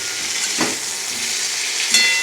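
Stalks frying in a pan, a constant bright sizzle with a couple of brief stirring surges, close and steady.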